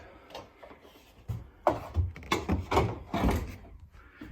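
A keezer, a chest freezer converted into a kegerator, has its lid opened with a run of close thumps, knocks and rattles of the hinged lid and fittings in a quiet room.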